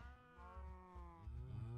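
A wounded cow in a video game moos in a long, drawn-out, upset low call that rises toward the end, fairly clear and alone.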